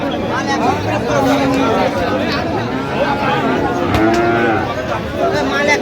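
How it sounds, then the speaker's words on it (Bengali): A Sahiwal bull calf moos repeatedly amid the chatter of a busy cattle market, with people talking nearby throughout. "শাহিওয়ালের ষাঁড় বাচ্চা।"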